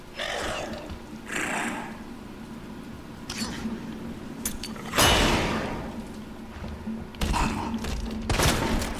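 Shotgun blasts in the Resident Evil 2 Remake video game: several loud, sharp booms at irregular intervals, each followed by a short rumbling decay, with game sounds and a voice in between.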